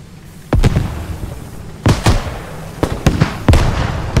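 A Warrior IFV blows up in a video game, heard as a series of sharp, loud blasts and booms with some ringing between them, close and punchy, with no talk over them.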